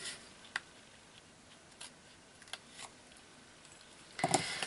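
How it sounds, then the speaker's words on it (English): Scissors snip excess cardstock on a handmade card, giving a few sparse, crisp clicks spaced apart in a quiet room, ending in a louder cluster of snipping sounds. "Taking my scissors, and I'm just going to trim off the excess on either side."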